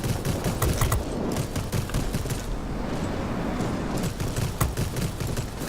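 Dense, continuous crackling volleys from aircraft rocket salvos in the World of Warplanes combat game, loud and unbroken throughout with rapid popping bursts over a rumbling engine bed.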